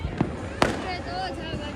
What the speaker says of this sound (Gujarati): આ બાજુ જો બધા ફટાકડા ફૂટ્યો ફૂટે ફૂટે